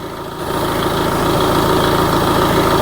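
A steady, low diesel engine idling close by on an Audi A3 2.0 TDI with the EGR blanked and EGR cooler deleted, a continuous rumbling drone with a faint rhythmic chug and no voices.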